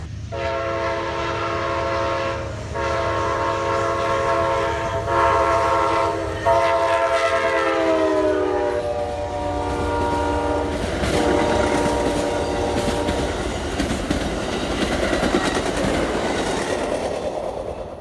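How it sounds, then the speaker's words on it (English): The northbound Crescent passenger train sweeps around a big curve in Ellisville, Mississippi, sounding loud sustained horn blasts over a heavy rumble, then clattering wheels as the cars roll past close by. "The northbound Crescent comes by us around the big swooping curve here in Ellisville."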